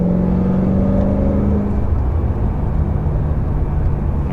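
BMW E92 M3 fitted with a titanium Akrapovic Evolution exhaust, heard from inside while driving: a steady, fairly subdued engine drone with a rising tone early on that settles into an even hum.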